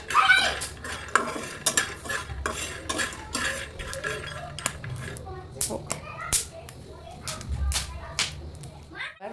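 Corn kernels being stirred and fried in a pan, with a steady run of sharp metal scrapes, clinks and taps from the utensil over a low sizzle, and voices in the background.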